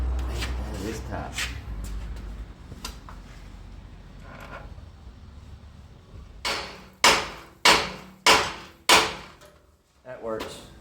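Metal hammer strikes on the rear suspension of a 1957 Chevrolet Bel Air ring out in a quick series of four sharp, loud blows, with a few scattered knocks and clanks before them.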